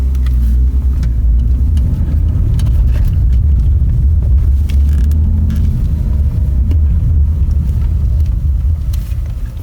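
A steady low drone from a BMW E46's 2.5-litre straight-six engine with road rumble, heard from inside the moving car, continuous and fairly loud throughout.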